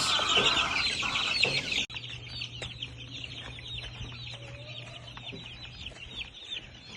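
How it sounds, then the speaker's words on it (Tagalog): Early-bird first batch of chicks, a backyard gamecock breeder's flock, peeping and clucking continuously while moved to a chicken house, a dense loud chorus at first that turns softer and steadier, with no talk. "kinuha namin yung aming mga sisiw para ilipat sa aming chicken house"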